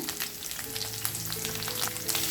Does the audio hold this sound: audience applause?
no